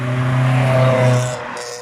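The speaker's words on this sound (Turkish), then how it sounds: "arabanın egzozu motorun için bağırıyor" A car's exhaust roaring as the engine revs on an evening street, a loud steady low drone that holds and then fades, close and alone.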